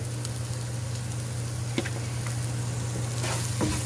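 Onion with cumin and celery salt sizzles in a pan, a steady, close crackle with a few faint clinks of stirring and no talk.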